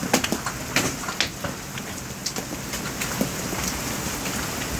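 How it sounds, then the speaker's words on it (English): Large hailstones, almost golf-ball size, pelt the ground outside an off-grid cabin in Oklahoma during a quick hailstorm, giving a steady rain-like patter broken by scattered sharp impacts and occasional heavier thuds nearby. "Like, they hit the ground with the thud."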